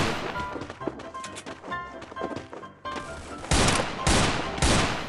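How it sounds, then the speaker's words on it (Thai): Rapid, continuous gunfire in the battle-royale shooter Free Fire, with dense overlapping bursts and heavy impacts that build to louder sustained volleys near the end. "ตอนนี้ยิงไม่พักเลยครับ"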